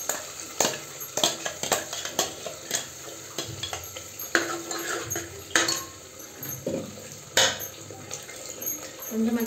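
Ground spice paste being stirred and sautéed in hot oil in a pan for chicken chalna, with irregular scraping clatters of a spoon against the pan over a soft continuous sizzle, close up and without talk.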